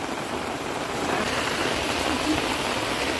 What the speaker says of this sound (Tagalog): so picnic in the rain